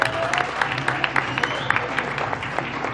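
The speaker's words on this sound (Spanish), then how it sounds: "les voy pidiendo aplausos, por favor" Audience applause at a roundtable on women in Latin America at the FIL Zócalo book fair, a steady patter of clapping from a crowd with faint voices mixed in.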